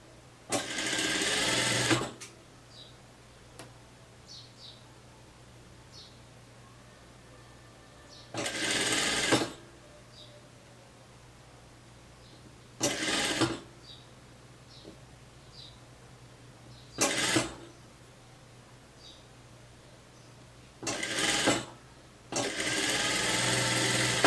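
Sewing machine stitching a garment, a cropped top with godet sleeves and ruffle, runs in five short bursts of steady whirring separated by quiet pauses, heard close with faint handling sounds between.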